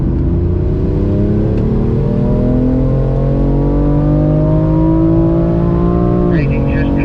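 BMW M4 on a race track, the engine pulling hard through the gears with rising tones and a shift near the end, loud and close, with an instructor talking over it.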